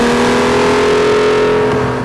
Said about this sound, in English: the dual-mode exhaust emits this sound from the bowels of hell